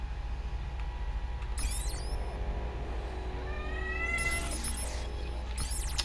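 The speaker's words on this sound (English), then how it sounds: "that's my cat." A pet cat meows several times in the room while a Watch Dogs Bad Blood mission plays, giving short, rising, fairly close calls separated by pauses over a steady low background hum.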